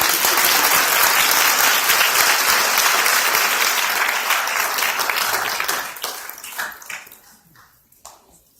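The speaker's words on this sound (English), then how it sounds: "a round of applause" A ceremony audience applauds a harpist with dense, sustained clapping that holds steady for several seconds, then thins out into a few scattered claps and fades away.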